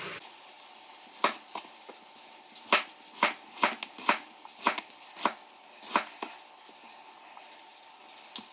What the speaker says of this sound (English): we're going to cut these up